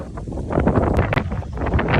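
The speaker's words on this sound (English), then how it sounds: "Windy and chilly." Strong, chilly wind in Florida buffets the microphone in a steady, rumbling roar with gusty swells and no voices.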